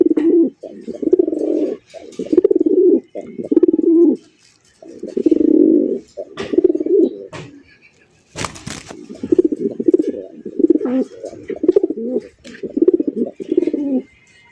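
Village pigeons cooing in a steady run of deep, rounded calls repeated with short gaps, close and clear, with a brief flutter of wings partway through.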